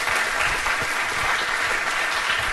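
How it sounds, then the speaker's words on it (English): Steady, dense applause from a lecture audience at the California College of Arts in San Francisco, filling the room evenly from start to finish with no talking over it. "Let's all welcome Nataly with a warm round of applause"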